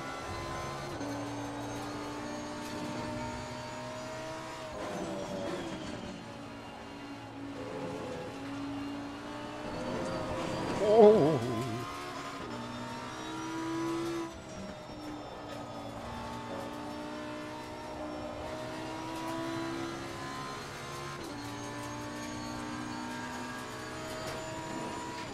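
Lamborghini Super Trofeo race cars circle the Kyalami circuit, their engines rising and falling in pitch as they accelerate and shift, with one car swelling loudly as it passes mid-way.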